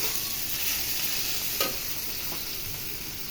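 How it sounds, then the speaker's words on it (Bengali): Ground dried shrimp is mixed with garlic paste and peanut paste for a bhorta, a continuous close scraping and stirring with a soft hiss and one or two sharper clicks of the utensil. "গুঁড়া চিংড়ি তো মজা। ভালোভাবে মিশিয়ে নেন।"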